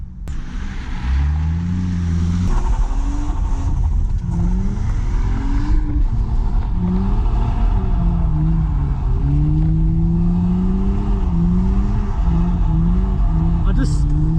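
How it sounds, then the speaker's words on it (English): Lexus IS200 engine revving hard while street drifting, shifting from first into second gear, loud continuous engine roar with rising and falling pitch from inside the car. "I just drifted in first to second gear"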